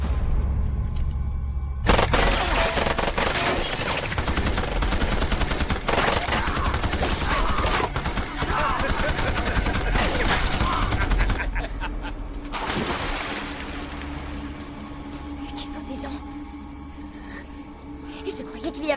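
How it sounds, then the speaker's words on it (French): Gunfire rattles through an action film scene, with dense bursts of automatic fire and booms going on for long stretches, loud and close, then thinning toward the end. Voices can be heard under the shooting. "on se fait tirer dessus!"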